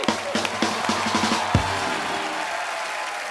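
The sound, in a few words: studio audience applause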